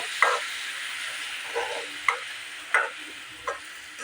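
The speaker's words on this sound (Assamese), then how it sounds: "এয়া মই বিলাহীখিনিও ভালদৰে ভাজি ল'লোঁ মছলাৰ লগত" Blended tomatoes frying in a pan with spice paste give a steady soft sizzle, broken by several sharp scrapes and taps of a spoon stirring the mixture.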